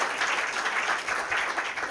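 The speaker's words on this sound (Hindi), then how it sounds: "जोरदार बजा तालियां दीजिए" An audience at a Hindi kavi sammelan poetry gathering applauds, a brief, steady wash of clapping at moderate distance with no talk over it.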